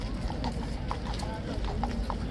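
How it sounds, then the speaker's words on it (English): Hooves of King's Guard trumpeter horses clip-clop on pavement, a run of quick, uneven steps under a noisy outdoor crowd murmur. "They've already got a few trumpeter horses."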